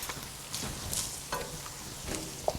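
Onions dropped into a hot pan of browned lean ground bacon, sizzling and frying with a few soft stirring scrapes and clicks, close and moderately loud.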